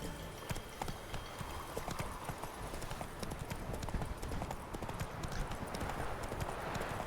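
Roach, Geralt's horse in the video game Witcher 3, gallops with a fast, steady clip-clop of hooves, close and continuous, joined by a brief whinny.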